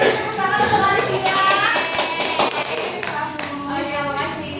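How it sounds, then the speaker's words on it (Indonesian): A classroom bursts into applause for a student, a dense patter of many hands clapping close and steady for several seconds, with faint children's voices underneath. "Tepuk tangan untuk Alicia."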